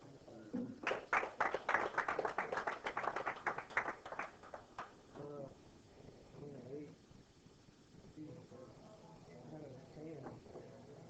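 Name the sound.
round of applause at a 9-ball championship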